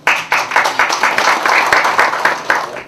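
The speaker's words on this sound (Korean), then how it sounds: "여러분 큰 박수로 환영해 주시기 바랍니다." Audience applause at a CEO coaching forum greeting a merchants' representative as he takes the stage, a dense, steady round of hand clapping close by that carries on unbroken and alone.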